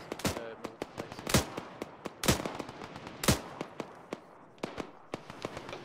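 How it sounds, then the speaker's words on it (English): Enemy gunfire cracks overhead in sharp, uneven bursts, several loud snapping shots mixed with quicker fainter pops, spaced irregularly across a few seconds of open air. "Landing, the enemy is shooting over me."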